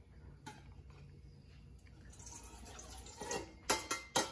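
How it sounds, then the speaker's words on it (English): Quiet clinks and trickles build to a few louder splashes and knocks near the end as a cup of water is tipped into a mixing bowl for oobleck. "Now you just add in the water."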